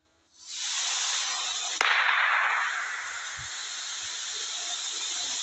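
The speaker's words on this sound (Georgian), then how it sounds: "I think that was a gunshot." A single sharp gunshot cracks in a forest, a brief near-vertical burst that leaves a long hissing wash of noise fading slowly afterward, with no talking.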